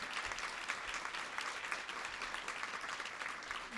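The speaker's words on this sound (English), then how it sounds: "one more round of applause" Steady applause rolls through the audience at the DC High-Impact Tutoring Summit plenary, a dense and even patter of many hands heard from a distance, quiet and sustained without any voices on top.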